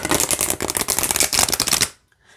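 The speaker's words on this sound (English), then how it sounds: "Let's see how it shuffles." Large oracle cards with medium-weight cardstock are riffled and shuffled in a dense, rapid flurry of papery flicks and slaps, close and loud, stopping abruptly near the end into near silence.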